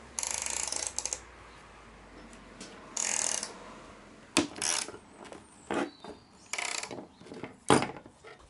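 Ratchet wrench tightening bolts on a car splitter of a custom widebody Alfa Romeo Giulietta, heard as several short bursts of clicking separated by pauses, close and fairly loud with no talk.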